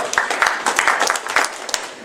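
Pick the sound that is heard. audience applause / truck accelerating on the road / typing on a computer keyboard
audience applause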